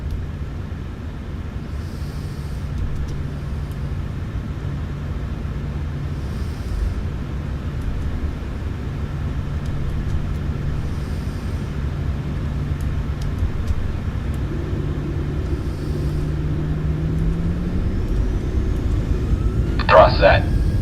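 An airliner's engines spool up for takeoff on runway 32 left. A steady low drone builds, and a rising engine tone swells toward the end.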